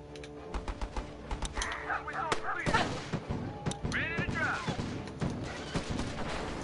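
Battle Islands: Commanders gameplay with sniper and other gunfire: a busy mix of repeated sharp shots at an uneven rhythm, moderately loud, alongside crashing impacts and whistling effects, with no voices.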